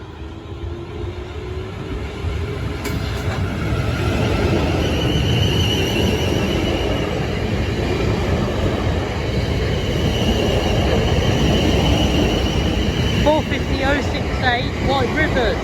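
Class 450 electric train rumbling loudly through Camberley level crossing, a continuous close roar of wheels and carriages with a faint squeal, while someone speaks over it.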